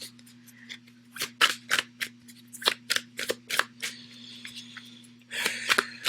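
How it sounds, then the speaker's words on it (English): Tarot cards being shuffled quickly, a run of crisp riffling flicks and slaps in uneven bursts, close and fairly quiet over a steady low hum, ending in a denser flurry. "I'm going to just shuffle these cards really quickly"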